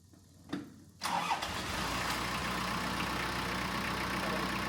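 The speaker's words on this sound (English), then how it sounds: "see if I can get the tractor to stumble or at least try to fire" Tractor engine that had run out of fuel cranks and catches, a brief starter burst giving way to a loud, steady near idle with a continuous low rumble, no talk.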